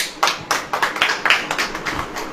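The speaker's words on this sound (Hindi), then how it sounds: "ताली वाली बजेगी कि नहीं?" An audience claps at a Christian sermon gathering, a ragged burst of hand claps with roughly a dozen quick uneven peaks, fairly close and loud with no talking over it.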